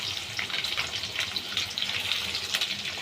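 Onions tipped into hot oil with dried red chillies for a Bengali onion-poppy-seed dish, giving a steady, close, bright crackling sizzle that runs throughout with small bursts of spatter and no voices.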